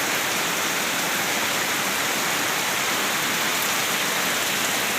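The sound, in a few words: heavy rain falling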